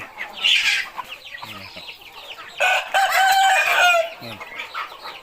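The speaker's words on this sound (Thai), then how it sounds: "มันจะแข่งกันขัน" Roosters crowing in competition at a Thai backyard coop, two loud drawn-out crows a few seconds apart with clucking and softer calls in between.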